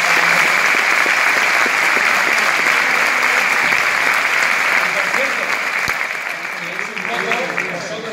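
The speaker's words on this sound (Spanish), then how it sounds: "así que desde aquí un aplauso para Paquito González" Loud, sustained applause from a theatre audience at the Teatro Jovellanos, a dense wash of clapping that fills the whole stretch and eases off slightly near the end.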